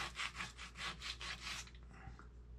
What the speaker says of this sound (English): I'm going to take some sandpaper.